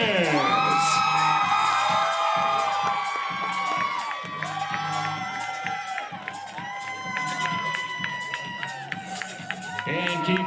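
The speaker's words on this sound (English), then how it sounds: "keep your applause going" Outdoor crowd at a Babe Ruth youth baseball all-star opening ceremony cheering, whooping and clapping in a steady, loud roar, with children shouting and an announcer's voice carrying over it throughout.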